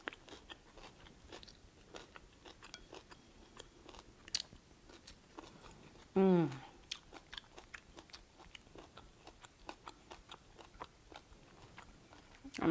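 Close chewing of a kohlrabi stir-fry with diced ham, soft crunches and wet bites repeating steadily at low volume, with one louder brief vocal sound partway through.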